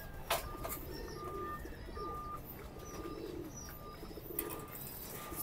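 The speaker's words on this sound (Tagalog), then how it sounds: "Nasa loob na lahat ng young bird natin par." Young pigeons coo softly inside a loft, repeated low murmuring calls with a few brief chirps and a wing flutter, faint and close by.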